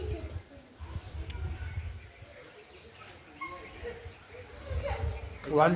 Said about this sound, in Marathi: लहान पिल्लू